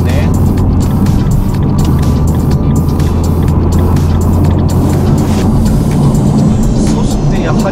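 Nissan R35 GT-R accelerating along a highway, heard from inside the cabin as a loud, steady engine and road roar that stays constant throughout, with no break in the drone.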